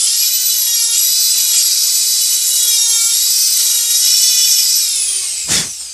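A Dremel 4000 rotary tool whines at high speed while carving a wooden wood spirit face, a steady shrill tone with slight pitch dips under load, ending in a short sharp knock near the end.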